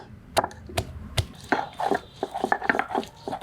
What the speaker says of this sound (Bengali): প্রথমে পেঁয়াজ বেটে নেই পেঁয়াজটা থেতো করে নেই